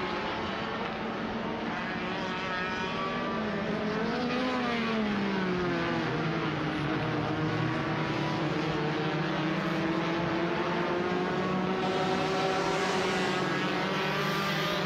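Race cars in India's National Racing Championship sweep through turn nine and over the timing line, a steady high engine drone with pitch rising and falling as the cars pass, heard from trackside without talk.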